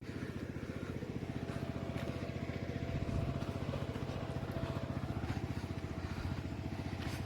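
A tractor works through a stony sugarcane field, its engine a steady rhythmic chugging putter at moderate distance, fairly quiet and continuous throughout with no clear talk.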